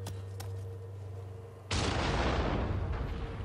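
Gunfire in the PS4 Pro action game Nioh 2: a steady low ambient hum gives way to a sudden loud blast of shooting that keeps roaring and crackling through the rest of the moment, with no voices.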